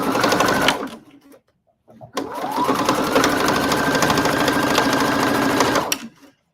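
A Husqvarna Opal 690 Q sewing machine stitches a denim corset, running steadily in one short burst, pausing briefly, then a longer unbroken run at close range.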